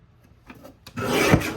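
A paper trimmer cuts white linen cardstock: a few faint taps, then one short, close scraping slide of the blade through the sheet.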